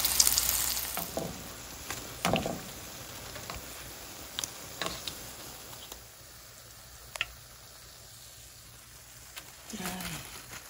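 Small spring rolls fry gently in hot oil with a soft, continuous crackle, broken by occasional clinks and scrapes of a utensil.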